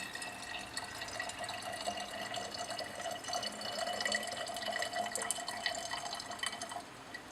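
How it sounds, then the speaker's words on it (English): Bromide solution pours into a 500 ml flask fitted with a stir bar, giving a steady, moderately close trickling and dripping of liquid that runs throughout without pause. "Add the bromide solution to the flask."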